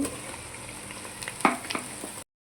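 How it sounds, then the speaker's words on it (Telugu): Sorrel leaves (chukka kura) frying in a pan, a faint steady sizzle with a few brief scraping stir sounds before it cuts off. "ఇప్పుడు మనము చుక్క కూర వేసుకుందామండి"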